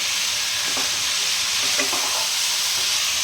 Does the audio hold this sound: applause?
no